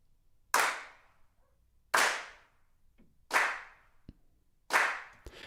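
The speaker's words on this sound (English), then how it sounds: "if I click on hand claps now, it adds in extra hand claps here" Soloed hand claps from a Logic Drummer track, four crisp, evenly spaced claps each with a short reverberant tail, heard alone against near silence.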